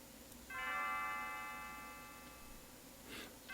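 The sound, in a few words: Leene's bell ringing in the video game Chrono Trigger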